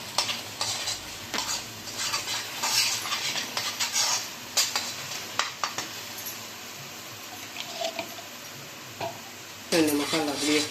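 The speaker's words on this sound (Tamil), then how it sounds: "கொஞ்சம் எண்ணெய் தெரிஞ்ச வரைக்கும் கொஞ்சம் வதக்கிக்கலாம்." Masala sautés in oil in a pan for a paya gravy: a spoon stirs and scrapes continuously under a steady sizzle, with close clinks against the pan and a brief voice near the end.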